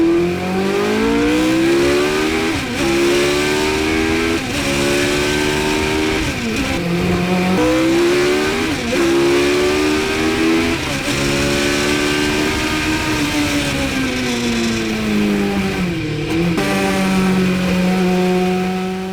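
Vintage race car engine recorded in-car at the Monaco Historic Grand Prix, loud and continuous, revving up and down through gear changes with rising and falling pitch and brief drops between shifts, no talking.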